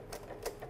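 Domestic sewing machine set to a 2.0 mm stitch length with the needle at position 6.0, stitching forward and backward at the edge of fringed fabric; a short, faint burst of mechanical whirring with a few soft rhythmic pulses.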